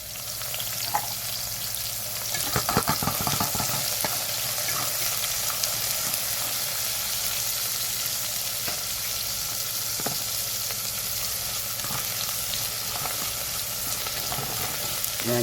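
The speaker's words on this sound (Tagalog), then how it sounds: "Gisain muna natin yung mga panakot natin" Onion, garlic, ginger and tomato sautéing in a hot pan for crab in coconut milk: a loud, steady sizzle with occasional scraping and clatter as the pan is stirred.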